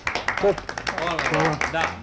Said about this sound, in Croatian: Ali svakako jedan aplauz za mladoga Kazanovu.